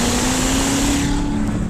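A Corvette ZR1 engine at full throttle with its exhaust valves open, a steady loud broadband roar holding throughout with a sustained droning tone, mixed with wind rush.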